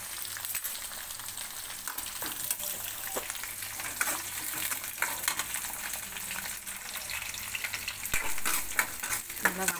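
Onions sizzle and fry in a pan for a garlic curry, a steady broadband hiss with scattered clinks of stirring throughout, close and fairly loud, no voices.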